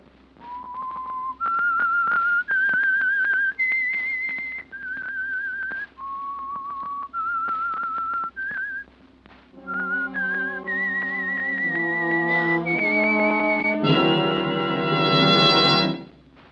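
A solo whistled theme for the radio program The Whistler plays as a clear, loud, sustained melody of held notes. Richer harmonic tones build beneath it toward the end.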